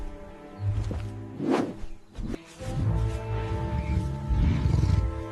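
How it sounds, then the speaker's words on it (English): An African lion gives a deep, rumbling roar, loud and close, swelling in a couple of bursts over a cinematic soundtrack with no talking. "Meet the lion, Africa's apex predator."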